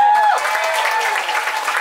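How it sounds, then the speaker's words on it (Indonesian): An audience applauds at a one-day English and character camp, a brief burst of crowd clapping with a tonal voice or whistle-like sound over it. "Tepuk tangan buat saya."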